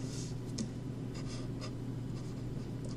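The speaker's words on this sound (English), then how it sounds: "Now we write out this solution." Pen or marker scratching steadily on a board or paper while a math solution is written out, a continuous close scribbling texture with short strokes over a low steady hum, no talking.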